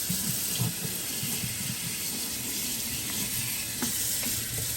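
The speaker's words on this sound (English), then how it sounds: "I'm going to pour it into this can." Water-soluble paint is poured into a can, a continuous splashing liquid stream that sounds close and runs steadily, with a few soft knocks along the way.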